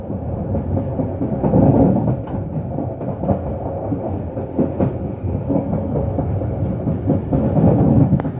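The Matarmaja economy-class passenger train rumbles along the rails in a continuous low roar, with faint rhythmic clicking of wheels over track joints.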